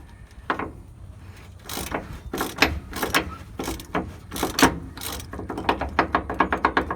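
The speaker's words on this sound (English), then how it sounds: "Using both wrenches to loosen that up." Wrenches loosen a bolt on the front shock of a Kenworth T660 truck, giving a run of close metallic clicks and ratcheting taps that start sparse and speed into a quick, even series near the end.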